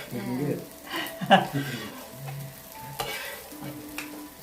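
Fried rice is stir-fried in a pan, with a steady sizzle and scraping stirs and a few sharper clacks throughout, fairly close and uninterrupted by speech.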